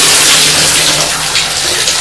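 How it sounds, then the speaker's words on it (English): Shower water running into a bathtub in a house with faulty plumbing, a loud, close, continuous spray hiss with a steady splashing texture and no pauses. "that is as much as you can get the shower to come on right now"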